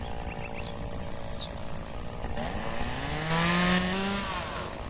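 A chainsaw in the tree-cutting game Lumber's Life whines steadily at mid distance, its pitch rising and sweeping as it revs, with a brief surge louder near the end over a constant background hum.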